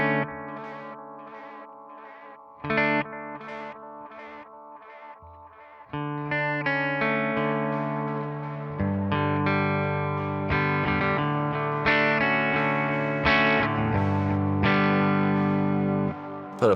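A Source Audio Encounter effects pedal processes a guitar, split into resonant and noise tape signals. It gives sustained, distorted, chorus-like chords and swells that grow thicker and louder, with no talking.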